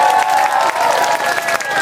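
Audience at a bicycle stunt display bursting into cheers and applause after a bunny hop over a bar, a dense, close wash of clapping and shouting voices filling the whole short stretch.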